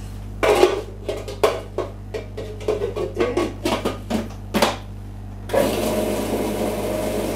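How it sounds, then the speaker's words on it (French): A kitchen blender purées avocado, butter and red pepper, starting with a series of sharp, uneven knocks and clatters before the motor settles into a loud, steady whir. "Et on va mettre dans le mixeur."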